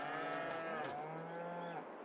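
Cows in the video game Farming Simulator 22 give a long, drawn-out moo that dips and trails off, loud and close, with no talking.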